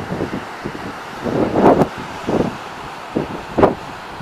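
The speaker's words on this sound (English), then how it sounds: "It's actually a windy day today. Here's the ocean blasting in." Gusty coastal wind at Angra do Heroísmo buffets the microphone with rumbling bursts, while ocean waves surge against the shore in the background on a windy day.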